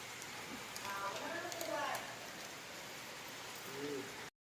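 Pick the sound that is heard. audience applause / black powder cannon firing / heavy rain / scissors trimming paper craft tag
heavy rain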